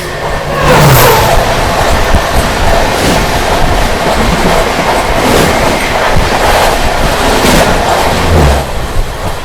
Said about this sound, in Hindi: सामने से आ रही है पुणे अमरावती सुपरफास्ट एक्सप्रेस